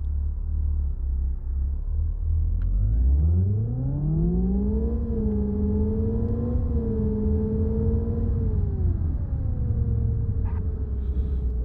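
A car engine in the PC driving game CityDriver starts up and revs, its tone rising smoothly, then holding a steady drone over a low rumble before easing down again.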